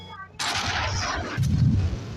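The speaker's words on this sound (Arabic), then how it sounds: "صوت الار بي جي." An RPG rocket launcher fires in GTA San Andreas: a loud broadband whoosh bursts in, followed by a deeper rumbling boom, with a faint voice beneath.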